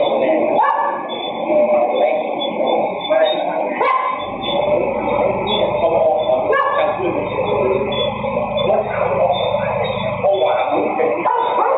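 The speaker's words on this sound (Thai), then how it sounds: "พอรถขับมาจอดที่หน้าบ้านมีเสียงหมา" Dog barking at a house as a car drives up and parks out front, yips and barks mixed with engine noise beneath a voice talking over it.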